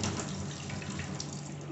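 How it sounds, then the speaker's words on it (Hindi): Water gushes steadily from an overflowing kitchen water tank, a continuous splashing rush with no speech. "उधर मेरी किचन की टंकी ओवरफ्लो हो रहा है, भर गया पूरा पानी"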